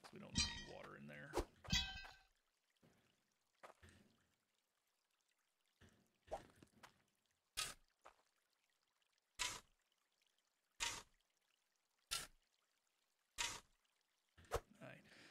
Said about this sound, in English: Dump the water out, because we don't need water in there.